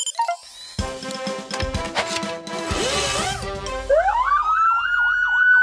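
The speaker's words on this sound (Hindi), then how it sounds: "येलो सायरन की आवाज तेज करो ताकि वो सुनाई दे।" Siren from an animated kids' vehicle cartoon in a garage setting, starting loud after a burst of clatter and rising into a steady wailing up-and-down tone that continues to the end.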